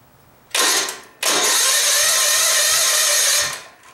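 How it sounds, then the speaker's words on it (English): A vehicle engine at a driveway revs up hard as the gas pedal is held down, after earlier trouble from a blocked fuel line; two loud bursts, the second sustained for about two seconds before dropping away, no talking. "Give it a little gas with the gas pedal."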